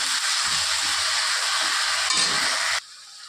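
Cumin paste, ginger paste, green chilli and tomato paste fry in a hot pan for a duck egg curry, giving a loud, steady sizzle that cuts off abruptly near the end, with no talking.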